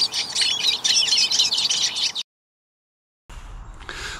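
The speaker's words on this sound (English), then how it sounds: "This is an example of the siskin's song." A fast, twittering siskin song of busy high chirps and trills, close and clear, stopping abruptly before a brief faint resumption.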